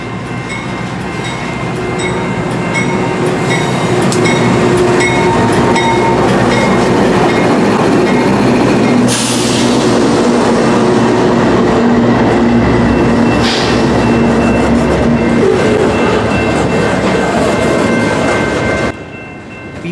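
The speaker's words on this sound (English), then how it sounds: "5005 is a GE C44-9W built in 2004, and Kansas City Southern 4607 is a GE" BNSF freight train led by a GE C44-9W locomotive built in 2004, with a Kansas City Southern GE unit, rolling slowly past close by, a loud continuous rumble and wheel noise with steady tones and a brief screech, easing near the end.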